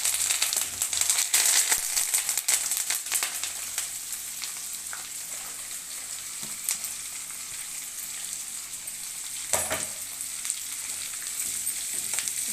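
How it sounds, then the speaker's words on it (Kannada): Chopped onion, dried red chillies and curry leaves sizzle in hot oil for a tempering, a steady crackling hiss with occasional pops and stirring scrapes, close and continuous without voices. "ಇವಾಗ ಕಟ್ ಮಾಡ್ಕೊಂಡಿರೋ ಅಂಥ ಈರುಳ್ಳಿ ಮತ್ತು ಒಣಮೆಣಸಿನ್ಕಾಯಿ, ಕರಿಬೇವು ಜೊತೆ ಹಾಕೊಳ್ಳೋಣ"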